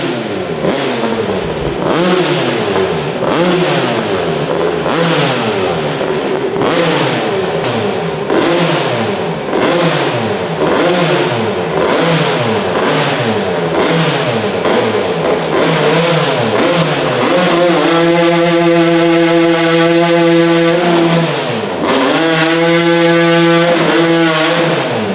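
At a winter bike show, a motorcycle does a burnout, its engine revving hard in repeated rising and falling sweeps, then holding high steady whines toward the end. It is loud, close and continuous with no talk.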